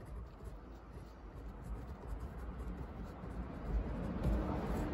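A pen scratches a first and last name onto paper, a soft, close, continuous rustle of writing strokes that grows a little louder near the end, with no talking.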